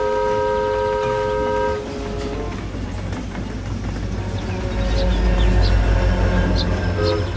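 A Thomas the Tank Engine toy train whistle toots with steady tones, then gives way to a rumbling, clattering rolling noise that grows louder toward the end.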